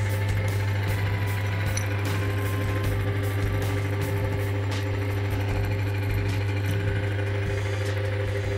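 A car engine idling after an engine oil treatment has been added, a steady close hum with a fast, even ticking and chattering running through it, unchanging throughout, with no talk.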